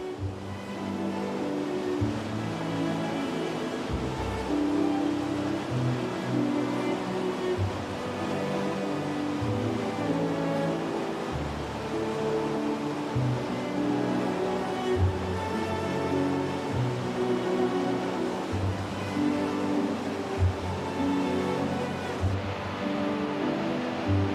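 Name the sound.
waterfall cascading down a series of cascades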